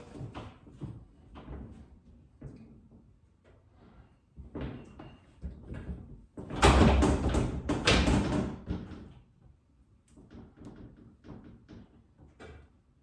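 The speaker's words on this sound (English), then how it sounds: "Now we can go ahead and do the external door next." A Basco Deluxe glass sliding bypass shower door is fitted onto its track. Soft knocks and scrapes build to a louder, longer rattling clatter midway, then settle back into scattered light taps.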